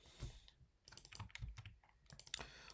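Quiet typing on a computer keyboard, with clusters of close, crisp key clicks arriving in short uneven bursts separated by brief pauses.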